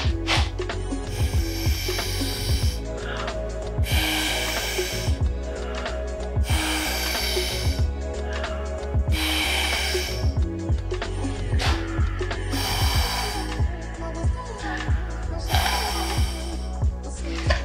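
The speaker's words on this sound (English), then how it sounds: "Something as simple as a straw," Breath blown through a straw onto wet paint makes a series of regular airy puffs, about one every two seconds, close and moderately loud, with faint background music underneath.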